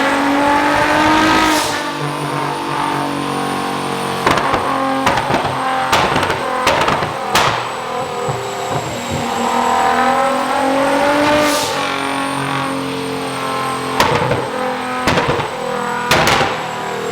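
A tuned car on a dyno being pushed for flames revs hard and loud over and over, the engine rising and falling, with sharp cracking pops and bangs bursting through at intervals.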